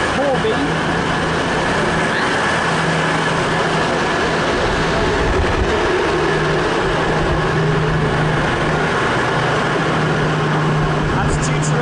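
An East Midlands Trains diesel train, 220014, on a service to Corby, idles and rumbles steadily at a London St Pancras platform, with a low engine drone and a humming tone throughout.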